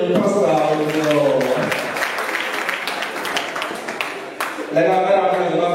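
Audience clapping at a live French comedy show, a steady patter of applause from a crowd filling the space, fading slightly then swelling again, with a voice speaking over it at the start and end.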